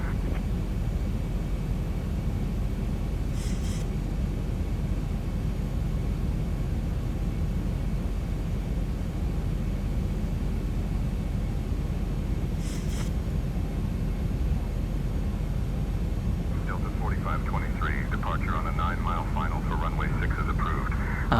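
Airliner engines during departure in the X-Plane 12 flight simulator, a steady broad roar lasting throughout at even loudness, with a few short beeps and a faint crackly radio-style voice near the end.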